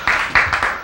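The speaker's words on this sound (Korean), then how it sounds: "박수." Several short bursts of clapping from a church congregation, loud and close, coming in quick waves of applause.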